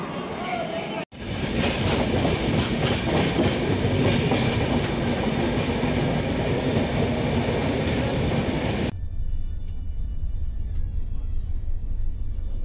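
Steady loud onboard rumble of the Shatabdi Express running between Howrah and New Jalpaiguri, continuous wheel-and-carriage noise with a faint clickety rhythm, briefly cut near the start and thinning toward the end.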